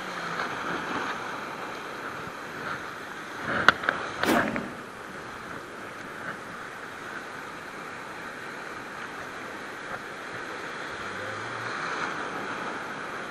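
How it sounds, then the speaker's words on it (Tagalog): Choppy water slaps and washes against a small fishing boat out on the sea, a steady broadband wash with a cluster of sharper knocks and splashes in the middle before settling back to a constant rush. "Grabe talaga yung mga alog ngayon, no? Hampas na naman."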